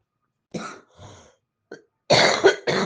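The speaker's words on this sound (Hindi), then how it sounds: "अभी भी मुझे खांसी बहुत ज़्यादा रुक रुक के तो आ रहा है" Several separate coughs in a quiet room: a couple of isolated hacks, then a loud, harsh burst of close coughing at the end.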